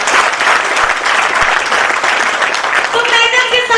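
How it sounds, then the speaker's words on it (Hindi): Loud, steady audience applause at a local program fills the whole stretch, a dense wash of many clapping hands with no pauses, and a faint melodic tone surfaces near the end. "एक जोरदार ताली हो जाएगी लोग।"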